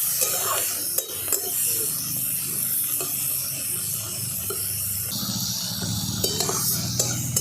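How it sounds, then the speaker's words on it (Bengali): Prawns fry lightly with turmeric in a pan, a steady moderate sizzle joined by scraping stirs and occasional clinks of a utensil against the metal. "একটু হালকা করে ভেজে নিচ্ছি।"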